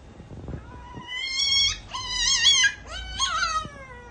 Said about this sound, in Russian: тот самый щенок, в общем, он, прикиньте, он научился говорить «мама»